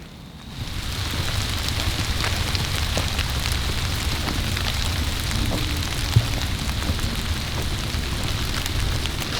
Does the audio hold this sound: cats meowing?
no